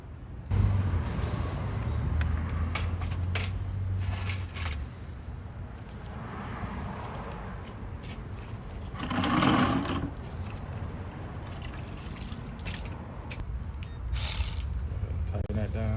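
Screwdriver work on star bit screws being tightened into a 2012-2018 Ford Focus hatchback headlight assembly, giving a run of ratcheting, mechanical clicks over a steady background hum, with a brief louder rustle partway through.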